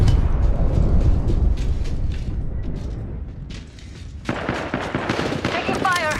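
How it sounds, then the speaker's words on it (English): Video game gunfire rattles in dense, continuous bursts, loud and close, with a sharper crackling volley near the end and a voice faintly present underneath. "They're shooting at me."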